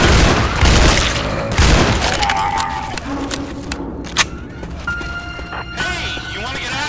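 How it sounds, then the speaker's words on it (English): Weapon reloading in the video game Left 4 Dead 2, a burst of mechanical clicks and clacks amid heavy gunfire and loud bangs, with game voices shouting over the action. "I'm reloading!"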